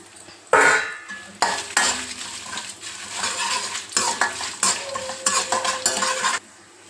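Cumin seeds and broken dry red chilies fry in a pan for a Telugu mint chutney, with scraping stirs and utensil clatter over a steady sizzle, close and fairly loud, no talking.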